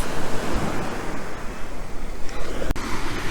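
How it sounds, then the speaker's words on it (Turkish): Sea waves wash over a pebbly beach at Assos, a steady rushing surf with wind noise and one sharp knock near the end, no voices. "Deniz birazcık dalgalı ama su ılık."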